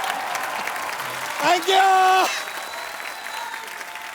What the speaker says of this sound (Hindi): एक बार जोरदार तालियां बच्चा के लिए